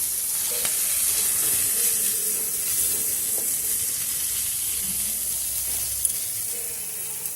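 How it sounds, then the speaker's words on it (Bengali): Boiled cauliflower and carrot pieces frying in a pan with a steady, loud, close sizzle that holds evenly throughout, with a few faint stirring knocks and no talking. "সবজিগুলো ভালো করে একটু ভেজে নিতে হবে।"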